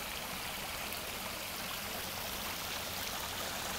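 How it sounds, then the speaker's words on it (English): Creek running at full capacity beside a sewer manhole with its cover blown off, a steady, dense rush of flowing water that stays constant throughout, fairly quiet and with no voices. "That is the creek flowing."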